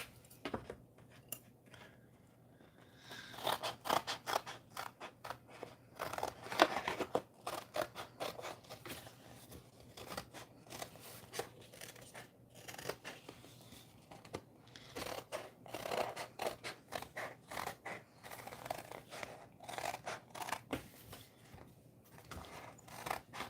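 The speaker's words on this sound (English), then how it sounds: "Now I'm going to cut them all out." Scissors snip through paper to cut out mushroom shapes, a long series of quick crisp clicks and slicing strokes in irregular bursts, close and fairly quiet with short pauses between runs.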